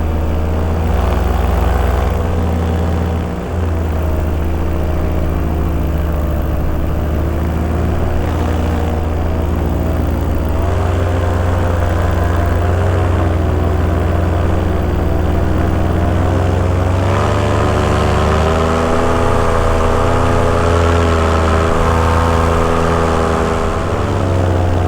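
Paramotor engines drone steadily, a loud continuous propeller hum with stable tonal harmonics that persists without pause for the full stretch, no voices present.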